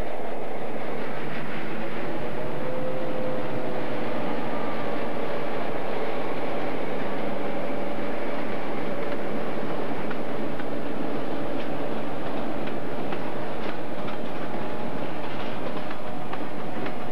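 Diesel locomotives of the New Hampshire Northcoast Railroad, 5,400 horsepower in total, rumble steadily as the train rolls past with a continuous low drone and faint clickety-clack of wheels on rail throughout.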